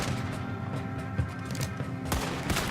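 A gunshot booms amid continuous Red Dead Redemption 2 game ambience and rumbling background, one sharper crack standing out near the end.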